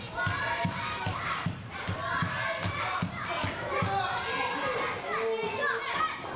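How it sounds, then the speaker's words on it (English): At an indoor wrestling show, a dense crowd cheers and shouts continuously with scattered thuds, loud and close throughout. "we have a building that is literally vibrating through all the people cheering for Nathan Reynolds"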